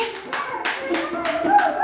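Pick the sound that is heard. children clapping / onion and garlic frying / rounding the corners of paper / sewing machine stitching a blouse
children clapping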